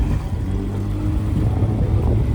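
A fishing boat's engine drones steadily and loudly at close range on the water, a continuous low hum with wind noise and no speech.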